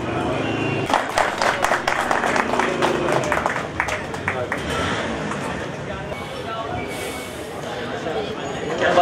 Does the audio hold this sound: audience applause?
yes